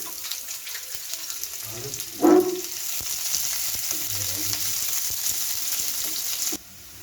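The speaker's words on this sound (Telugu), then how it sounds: "జీలకర్ర ఆవాలు వేసుకోవాలి మిర్చి ఉల్లిగడ్డ ఒకటేసారి వేస్తున్నాను" Cumin, mustard seeds, green chillies and onions hit hot oil with a sharp sizzle and keep frying steadily alongside a brief clatter of stirring, close and fairly loud.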